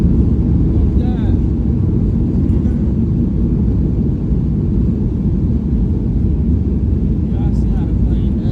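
Steady, loud roar of an airliner cabin as the plane touches down on landing in Miami in stormy weather, a continuous low rumble filling the whole stretch with faint voices beneath it.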